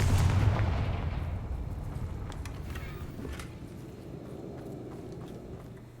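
In the Hogwarts Legacy video game, a Confringo fire spell explodes with a loud booming burst at the start, followed by a long rumbling decay and faint crackling debris as the sound fades.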